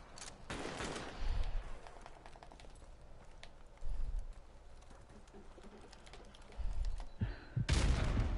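Machine gun fire in Call of Duty MWR, with bursts of gunshots at several points and distant game noise between the bursts.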